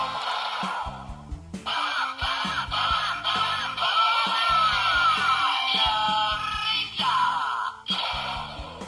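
Electronic space sound effects from a Sentai Gear candy toy: sweeping, warbling synthetic tones and chirps over a buzzy, stepping bass line, playing continuously and fairly loud.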